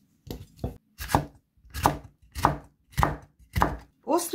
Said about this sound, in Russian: Сладкий перец нарезаем тонкой соломкой.